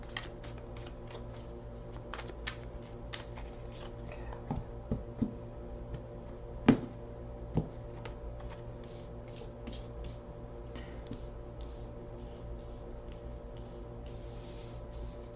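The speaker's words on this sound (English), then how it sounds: "Two more shuffles" A deck of tarot cards being shuffled in a quiet room, heard as soft, faint riffling and sporadic light taps and clicks spread across the stretch over a steady low background hum, no voices.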